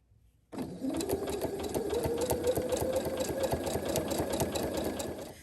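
A sewing machine stitches a zigzag alongside a straight stitch to form a decorative scalloped edge, starting abruptly and running in a steady rapid clatter up close, alone.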